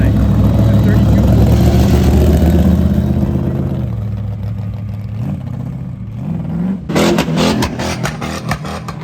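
A 1932 car at a car show, the loudest there, its engine rumbling heavily before easing back and then revving again in sharp bursts, with voices talking over it.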